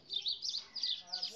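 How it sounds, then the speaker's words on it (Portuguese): Small birds sing outdoors in faint, high, repeated chirping phrases, several quick bursts in a row with brief gaps between them. "Escuta o canto dos pássaros."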